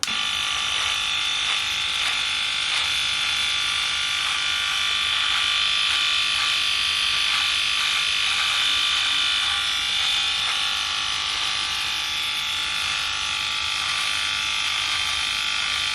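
Freebird FlexSeries electric head shaver buzzing steadily while trimming hair at a 3 millimeter setting, a close, continuous high-pitched motor whine with slight fluctuations as it cuts, no talking.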